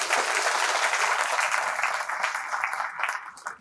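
Loud applause from a school parenting-event audience fills the room, a dense wash of many hands clapping at once that holds steady and then slowly thins out.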